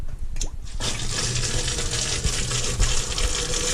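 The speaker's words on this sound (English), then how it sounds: "Run this through the sifter just to aerate the wort" Homebrewed Cocoa Psycho beer wort gushes and splashes through a sieve into a no-chill cube, a loud steady liquid pour with some overflow spilling, after a couple of brief knocks at the start.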